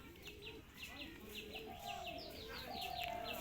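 A pigeon coos softly in a loft, low repeated throaty calls mixed with faint chirps from other birds nearby, fairly quiet with a soft voice in the background.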